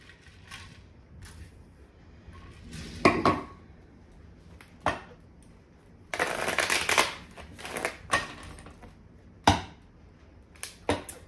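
Tarot cards being shuffled and riffled by hand, irregular bursts of crisp flapping and snapping with quieter pauses between, close up.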